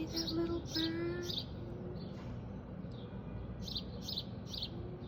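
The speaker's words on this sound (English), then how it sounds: "It's the same bird that was there yesterday when I got here, sitting out on the fire escape." A small bird perched on an apartment fire escape gives a few short chirps and tweets, some in quick bursts, over a steady background hum of city noise.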